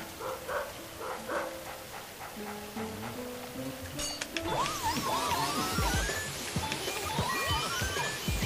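A ghost dog in the video game Luigi's Mansion gives a run of short barks, then higher whimpering yips over swirling game music, moderately loud.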